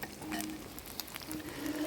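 Steady crackling sizzle of sisig bubbling on a hot plate, close up, with small pops and faint clinks scattered throughout.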